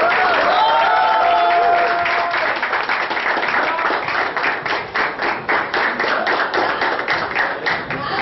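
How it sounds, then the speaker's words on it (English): An audience at an intra-college bartending competition breaks into loud, steady applause, dense rapid clapping from a crowd filling the room, with a brief voice at the start. "Come on guys, let's have a round of applause."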